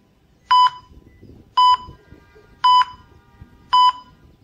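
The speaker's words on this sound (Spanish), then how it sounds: "digamos que una pulsación en estos detectores suena más o menos así" A Garrett Axiom pulse induction metal detector gives four short, evenly spaced electronic beeps about a second apart. Each beep is clear and tonal against a quiet background.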